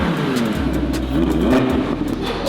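A wrecked, stolen 2018 Audi R8 V10 Plus turning over and catching, its engine rumbling loudly up close and revving in surges, with no talking.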